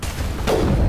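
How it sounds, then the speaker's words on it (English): A single sharp gunshot from the Mass Effect video game cracks about halfway through a short moment of low game ambience and rings out briefly. "Oh, I shot him in the groin."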